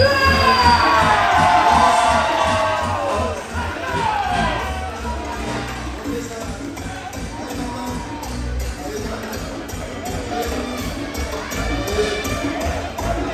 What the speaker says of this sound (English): Cha-Cha enjoys the adulation of this awesome crowd